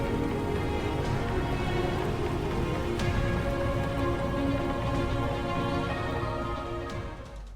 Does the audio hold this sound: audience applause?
no